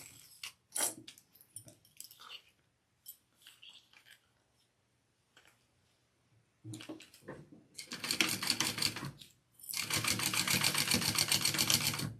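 Sewing machine basting the exterior pieces of a small bag, right sides together: scattered quiet handling clicks, then a short burst of stitching, and finally a loud, continuous, rapid run of the needle close by.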